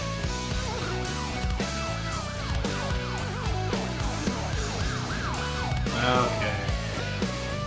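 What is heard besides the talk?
police sirens in a song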